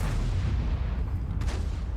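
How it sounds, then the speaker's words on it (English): Panther M10 tank firing in World of Tanks, a deep continuous low rumble of cannon fire and battle noise filling the whole stretch, steady and loud with no talk. "Now the Panther M10 is shooting"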